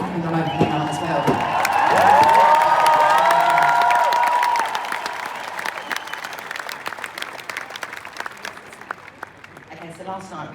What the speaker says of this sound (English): They're cheering for you again, Eric.